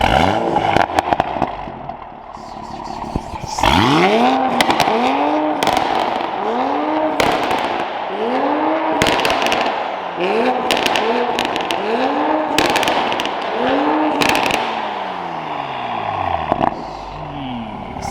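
A widebody Toyota Supra in sport mode with all exhaust valves open revs repeatedly, each loud rev swelling and falling, punctuated by sharp pops and crackles throughout.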